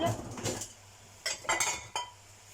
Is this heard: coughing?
no